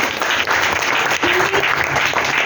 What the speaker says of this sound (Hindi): उनके लिए एक जोरदार ताली बजाइए